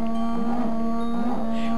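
A cartoonish cow in the video game Epic Battle Fantasy 3 gives two drawn-out moos over a steady synthetic tone, clear and close.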